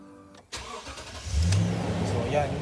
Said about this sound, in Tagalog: So paandar natin yung makina.